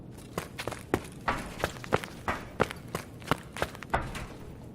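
Rapid, steady footsteps running on a hard surface in the game Escape from Tarkov, without a ComTac 2 headset equipped, evenly paced and fairly close, with no voices present.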